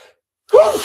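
A person lets out a single sharp, loud sneeze after a moment of near silence; it bursts in abruptly with a voiced, wavering tail that trails off.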